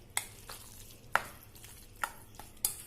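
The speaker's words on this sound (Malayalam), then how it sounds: "എന്നിട്ട് ഇതൊന്ന് നന്നായിട്ടൊന്ന് മിക്സ് ചെയ്തെടുക്കുക" Homemade quick pickle being stirred and mixed by hand, giving a handful of quiet, irregular scraping taps and clinks against a container with no talking.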